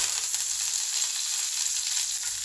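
Spices fry in ghee with a steady, bright crackling sizzle, loud and close, unbroken throughout with no voices.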